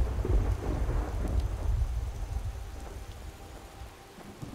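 Low rumbling thunder rolls under steady rain in the video game Skyrim, gradually fading toward the end.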